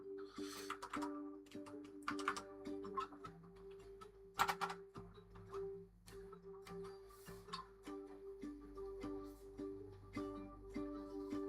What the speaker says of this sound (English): Typing but nothing's happening